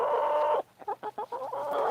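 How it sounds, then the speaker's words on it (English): Backyard chickens clucking close by, a sustained cackle followed by a short series of quick, choppy clucks and then another drawn-out call, fairly quiet with no talking. "We're paying attention to chickens."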